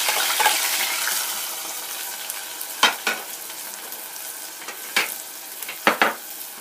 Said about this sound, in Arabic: ندير الزيت تاعنا شويه سخون، ناخذ البصل والثوم، نزيدو واحد طماطم